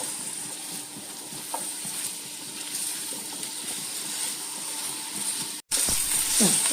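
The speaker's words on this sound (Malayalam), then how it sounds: "ഇതിലേക്ക് എണ്ണ ചൂടാകുമ്പോൾ അതിലേക്ക് രണ്ട് സബോള നീളത്തിൽ ഞാൻ അരിഞ്ഞു വെച്ചിട്ടുണ്ട് കേട്ടോ" Two sliced onions sizzle and sauté in hot oil for a Kerala onion chammanthi, a steady close frying hiss throughout that jumps louder near the end after a brief dropout.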